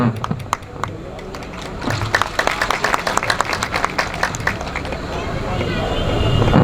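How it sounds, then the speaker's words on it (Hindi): Applause from an audience at an employees' gathering ceremony in Lucknow, welcoming a guest: dense, sustained clapping that grows louder toward the end, mixed with crowd murmur and voices. "आप लोग जोरदार तालियों से स्वागत करिए।"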